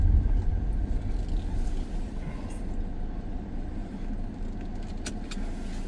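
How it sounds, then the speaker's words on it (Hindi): A car being parked in a busy temple parking lot, its engine a steady low rumble throughout with a faint jingle near the end. "चलो, अपनी गाड़ी को तो मिल गई पार्किंग, आराम से पार्क हो जाएगी यहाँ पे।"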